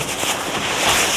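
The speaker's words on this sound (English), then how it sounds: "It's really windy today." Strong wind roars steadily across the microphone, a constant rushing buffet with no voices or other sounds, on a cold, windy day in Berlin while riding a bike.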